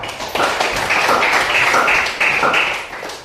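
A classroom gives a group of students a round of applause: loud, close, rhythmic clapping from many hands with voices mixed in, lasting a few seconds before fading.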